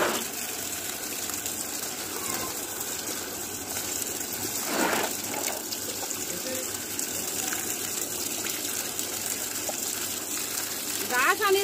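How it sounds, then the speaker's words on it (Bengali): Water gushes steadily from a hand-pumped tube well while fish are washed under it, a continuous splashing rush with a few brief sharper splashes and voices in the background. "টিউবওয়েলের মধ্যে ধুয়ে দাও।"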